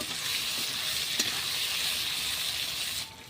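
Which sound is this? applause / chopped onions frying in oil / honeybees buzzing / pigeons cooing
chopped onions frying in oil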